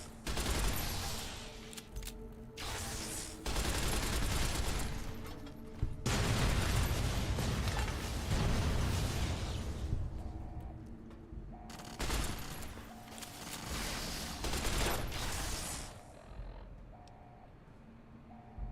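Bursts of rapid automatic gunfire come from a captured enemy weapon in Fallout: New Vegas, several long loud volleys separated by short pauses, with mechanical clicks and reload sounds between them.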